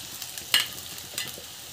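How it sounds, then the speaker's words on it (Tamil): Ingredients sautéing in a pan with rock salt at home, a faint sizzle with a couple of brief scraping stirs standing out. "ஸோ நல்லா வதக்கிட்டுருக்கேன்."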